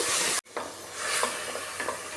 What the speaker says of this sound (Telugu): దీన్నంతా కలుపుతూ పచ్చివాసన పోయేంత వరకు వేయించుకోవాలి